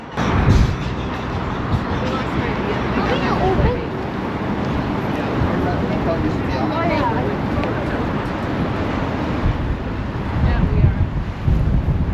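Strong wind roars and buffets the microphone without a break in Las Vegas, a loud, rough rumble that rises in gusts near the start and the end.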